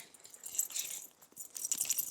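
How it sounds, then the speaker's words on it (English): Metal zipper pull tabs jangle on a large Silent Valor Cargo messenger bag, giving faint, scattered metallic clinks in two loose bursts with no talking. "you hear that? The jangle, all right? All of the zippers are outfitted like such."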